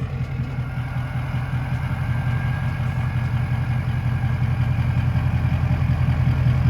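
A Ford Super Duty truck engine runs in gear while the truck sits up on a jack, a loud, close, steady low rumble that holds evenly throughout with no talking.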